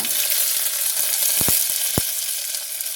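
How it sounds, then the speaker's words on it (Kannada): Six or seven slit green chillies fry in a pan with ginger, giving a steady, close sizzle with a couple of brief sharp clicks near the middle. "ಒಂದು 6ರಿಂದ 7 ಹಸಿಮೆಣಸಿನ್ಕಾಯಿ ಈ ಥರ ಸೀಳ್ಕೊಂಡಿದ್ದೀನಿ, ಅದನ್ನು ಹಾಕ್ತಾಯಿದ್ದೀನಿ"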